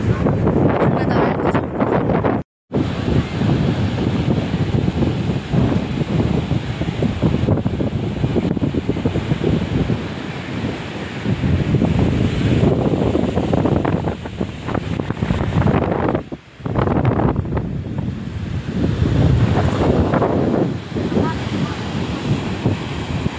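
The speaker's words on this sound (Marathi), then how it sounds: "किनारे आलोय. समुद्र आहे नदी नाही." Sea waves and gusty wind along the Arabian Sea shore at the Gateway of India in Mumbai on a morning, a loud, continuous roar of surf and wind buffeting the microphone, with a couple of brief dropouts.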